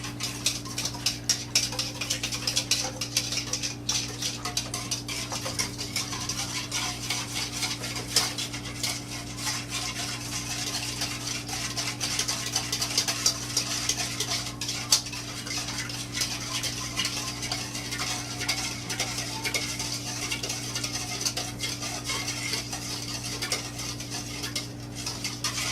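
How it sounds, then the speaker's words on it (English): Sugar and oil being whisked together in a bowl, a steady stream of rapid scraping and clinking against the bowl that runs on without pause, close up, with a constant low hum behind it and no talking. "And whisk it up."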